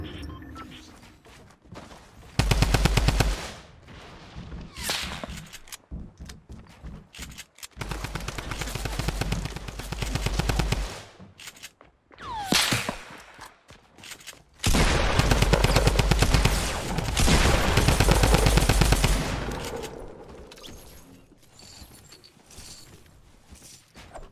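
Gunfire in the video game Fortnite Battle Royale during a squads match, with several loud sustained bursts of automatic fire separated by quieter gaps and short single shots.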